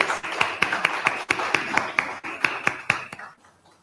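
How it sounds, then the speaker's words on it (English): A round of applause at a Freetown mayoral election debate in Sierra Leone, sparse distinct handclaps in a quick uneven rhythm that thin out and fade near the end. "Can we give her a round of applause, please?"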